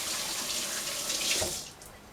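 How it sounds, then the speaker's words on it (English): Hands rinsed under a running kitchen tap give a steady, close, hissing stream of water, which ends briefly after a splash near the end. "And I'm going to rinse my hands."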